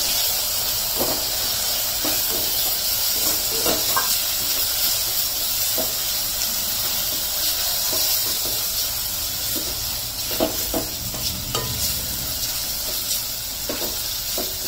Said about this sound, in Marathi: छान टोमॅटोचं अगदी विरघळायला पाहिजे, एवढं छान भाजलं गेलं पाहिजे त्यामध्ये।